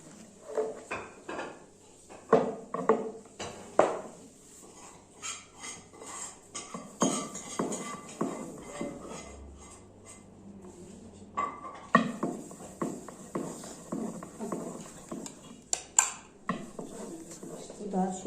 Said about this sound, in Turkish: Şöyle peynirimizi ekledik. Şimdi hepsini karıştıracağız.